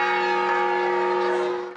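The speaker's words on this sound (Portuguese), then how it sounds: "até toques de alarme mesmo, como a inconfundível badalada de" Church bell tolling the fire alarm in a town, a single sustained, ringing stroke that hums with rich overtones and fades out over under two seconds, heard alone.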